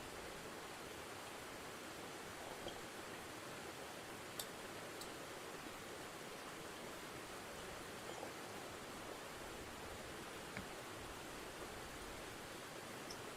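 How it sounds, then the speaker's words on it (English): Steady rain falls throughout, a dense even hiss with a few faint ticks and drips scattered on top, fairly quiet and with no voices. "Rain is white noise."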